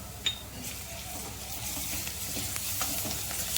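Chilli garlic paste sizzles in a pan with potatoes for a Maharashtrian batata bhaji, a steady hiss with occasional stirring scrapes and a light clink near the start, no talking.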